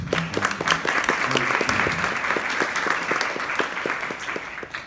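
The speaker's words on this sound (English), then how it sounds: "Let's get a round of applause for everyone who did the present and dance as well as song representation." Steady applause from a large audience at a university diversity dinner, many hands clapping at once with a few sharper individual claps standing out, loud and sustained throughout.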